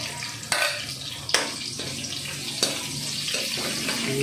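Stingray pieces go into a hot pan of oil, each landing with a sharp burst of sizzling over a continuous, loud, watery frying hiss.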